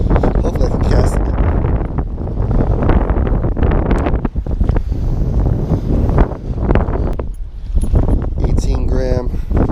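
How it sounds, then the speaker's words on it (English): Strong wind buffets the microphone in loud, continuous gusts while fishing from a boat on a bay, with brief rumbling peaks and a few faint higher sounds near the end. "that wind is no joke right now"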